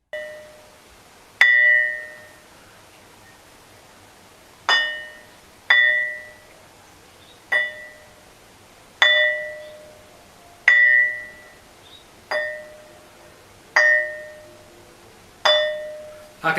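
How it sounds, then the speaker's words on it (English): Stones struck one at a time ring out like small bells, each hit giving a clear metallic ding that fades over a second or two, about nine strikes spaced unevenly, close and alone with no talk. "a quick demonstration how these stones ring like bells"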